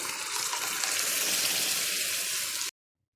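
Cooked split green moong dal poured into a pan, a continuous wet pouring and splashing rush that stops abruptly into silence.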